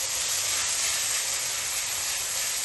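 Garlic, peppers and onions sauté in a pan with a constant, close, broadband hiss and sizzle that holds steady throughout, with no speech.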